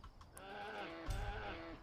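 Goats bleat in the video game World of Warcraft Dragonflight, a wavering drawn-out call with a low thump partway through over a constant game background hum.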